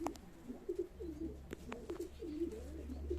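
Pigeons coo in low, repeated throaty rolls at a live pigeon auction, several close birds overlapping steadily over a faint background hum, with a few sharp clicks scattered between the calls.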